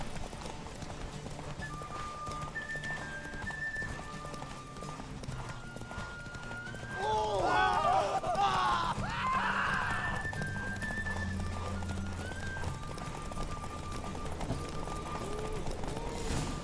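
A horse gallops in The Witcher 3 during a race, its rapid clip-clop hoofbeats running steadily throughout, joined midway by a louder burst of game sound effects and a whinny-like cry, with quiet music underneath.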